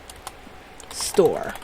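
Computer keyboard typing while entering a number into a search field in Second Life: a few soft, sparse key clicks, then a voice starts speaking over them.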